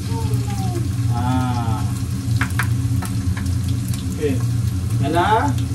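Garlic and ginger sautéing in a pan, a steady close sizzle running throughout beneath a child's and an adult's voices talking.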